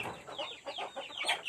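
Free-range village chickens and roosters clucking softly at a short distance, a quick string of faint, choppy clucks.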